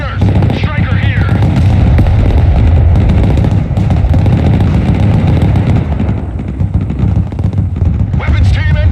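A dense, loud combat din from a video game, with gunfire and explosions churning without pause and a voice calling out over the barrage.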